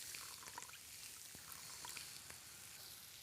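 Soy sauce is poured into a hot pan, giving a soft, brief trickling pour over a faint sizzle with a few small clicks, quiet and close.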